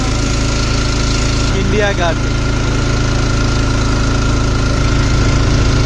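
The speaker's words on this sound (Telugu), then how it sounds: "బోటు బాగుంది కదా" A boat engine runs on the river by the ghats of Varanasi, a loud, steady mid-pitched drone with a throbbing low rumble that holds for the whole stretch while a voice speaks briefly over it.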